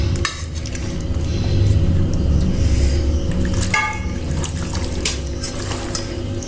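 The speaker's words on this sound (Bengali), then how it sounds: "মাছটা একটু মাখতে হবে, এর ভিতরে যেন মশলাগুলো একটু ঢুকে যায়।" Wet squelching and scraping as raw katla fish is mixed by hand with spices in a metal bowl, a steady close mixing sound with light clinks of the vessel.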